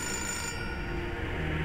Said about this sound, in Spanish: Tengo que coger el teléfono